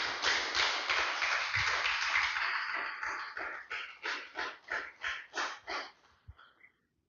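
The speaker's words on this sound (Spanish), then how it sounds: "Denle un fuerte aplauso al Señor, hermano." A church congregation claps together, starting as dense, loud applause, then thinning into slower, more distinct rhythmic claps before fading to silence.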